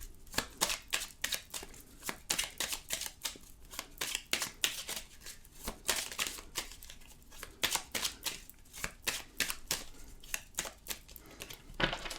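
Oracle cards are shuffled by hand in a steady, repeated rhythm of crisp flicks and soft slaps that runs for several seconds, close and fairly quiet, with no talking.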